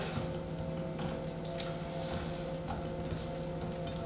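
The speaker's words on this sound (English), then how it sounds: "I'm gonna go right into the pan in the butter." Parmesan-coated chicken frying in butter in a pan, a steady close sizzle with a faint hiss and occasional pops, heard alone.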